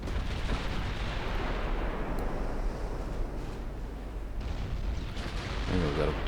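Torpedo detonation against a warship in the naval game Ultimate Admiral Dreadnoughts, Germany 1910: a dense, rumbling roar of explosion and battle noise sustained throughout, with a voice talking over it near the end.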